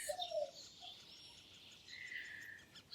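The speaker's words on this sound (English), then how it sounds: "I do have crickets." Crickets chirping faintly outdoors, thin high trilling mixed with a few bird chirps and tweets, distant and quiet over a soft background hush.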